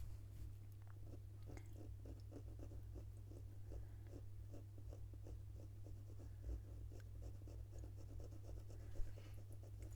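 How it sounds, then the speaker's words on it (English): Polychromos coloured pencil shades on paper in small round circular strokes, a soft rhythmic scratching repeated steadily at close range over a low constant hum. "round circular movement with the pencil."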